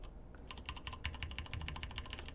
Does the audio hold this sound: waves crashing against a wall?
no